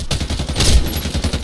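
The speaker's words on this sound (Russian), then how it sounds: "это помповый дробовик, причем темп стрельбы достаточно невысокий" Rapid, loud gunfire bursts from a Winchester Model 1887 pump-action shotgun in the shooter game Warface, several sharp reports packed into a short span with no speech over them.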